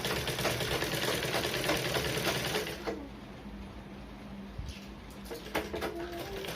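A sewing machine stitches a blouse front, running steadily at close range for about three seconds, then dropping to quieter, intermittent stitching with small clicks and bursts.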